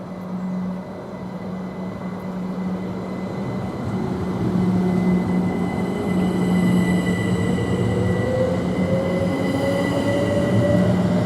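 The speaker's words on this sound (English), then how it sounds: "now departing is 387-102 heading to Cambridge" Class 387 electric train departing Stevenage station on the East Coast Main Line, a steady rolling rumble with a rising motor whine as it gathers speed, growing slightly louder.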